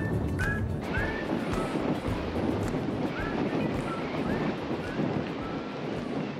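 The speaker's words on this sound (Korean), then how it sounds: "호수에서 불어오는 세찬 바람 때문에 몸을 제대로 가누기가 힘들다" Strong wind blows off a lake in northern Mongolia in early spring, a constant roaring buffet that fills the space, with a few faint high chirps above it.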